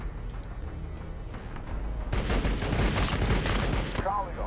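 Gunfire in the Warhammer 40,000: Battlesector video game, rapid repeated shots building into a dense, loud volley of battle noise, with some voice mixed in.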